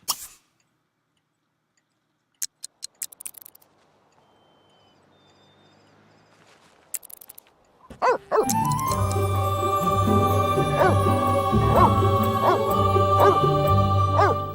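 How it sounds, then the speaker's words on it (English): A dog in The Sims 3 life-simulation video game gives a few short, sharp barks against near silence, then steady game music takes over for the rest of the clip. "And there's a doggy."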